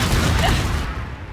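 Fiery spell blast from Confringo cast in Hogwarts Legacy on PS5, a loud sustained roar of crackling bursts and booms that fades toward the end, with no talking.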